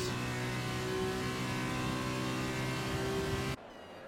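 A race car on medium tyres pushes through a quick lap, its engine a loud, steady high-pitched drone with stable harmonic tones that cuts off abruptly near the end, leaving a quieter low rumble.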